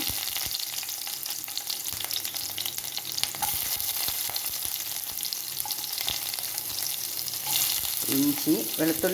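Garlic frying in ghee for a chicken curry, a steady close sizzle with crackling and occasional stirring, running throughout with no talk.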